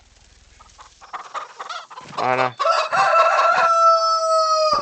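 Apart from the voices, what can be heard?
rooster crowing in Farming Simulator 25 video game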